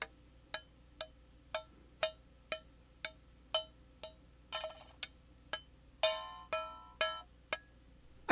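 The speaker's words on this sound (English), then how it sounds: "Next, I recorded this old kitchen skillet." Old kitchen skillet struck repeatedly at an even pace, each hit a bright metallic ring with a short decaying tail, some strikes sounding fuller and more clanging, recorded up close in a quiet room.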